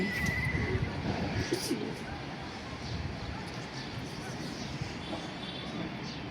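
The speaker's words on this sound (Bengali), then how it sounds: "আর এটা আমার পার্সোনাল ট্যাগের কবুতর।" Racer pigeons coo softly in a loft, low murmuring calls under a steady wash of background noise, with some chirps mixed in.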